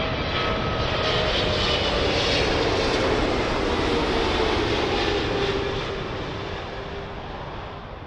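An Air Canada Boeing 777 from Vancouver, painted in the toothpaste livery, roars steadily on its landing approach to Heathrow runway 27L, a broad, loud jet rumble that eases slightly toward the end.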